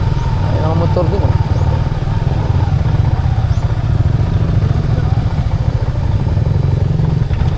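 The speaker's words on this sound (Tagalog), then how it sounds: "Ay, mga motor din, oh." Motorcycles rumble past on a provincial road, a close, loud, steady low engine drone with clattering texture, while people talk over it.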